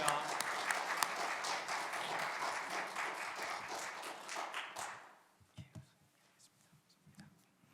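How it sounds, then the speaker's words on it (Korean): Church congregation giving warm applause during a Sunday service: steady, fairly distant crowd clapping for about five seconds, then stopping abruptly, leaving a few faint taps and murmurs. "뜨거운 격려의 박수를 하겠습니다"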